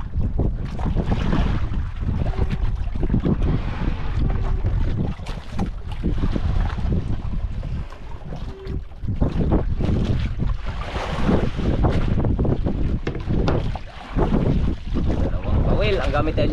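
Strong wind roars and buffets across a large boat out at sea, loud gusts rising and falling with heavy microphone rumble and some wave wash beneath.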